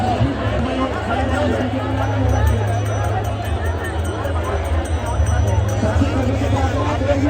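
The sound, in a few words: crowd hubbub at Keli Kunj, Vrindavan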